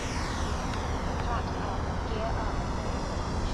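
An FMS Avanti 90mm electric ducted-fan RC jet on a high-voltage setup rolls out and lifts off with a steady, airy roar and hiss, moderately distant, with wind buffeting the microphone.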